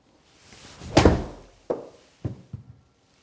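A golf ball struck with a club on a par-3 course at Doral, heard as one sharp impact followed by several quieter, separate knocks with short pauses between them.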